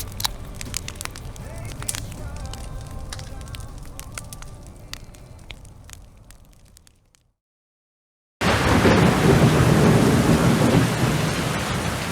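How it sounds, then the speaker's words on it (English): Heavy rain pouring down at a Scottish campsite, a dense steady hiss of drops drumming on surfaces that cuts out briefly for about a second, then returns louder and fuller. "It is raining quite a bit"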